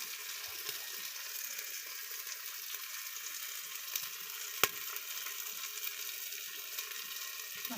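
Green Mangalore-style masala fries in oil, a soft steady sizzle with faint crackles and one sharp tap or clink near the middle, fairly quiet and close.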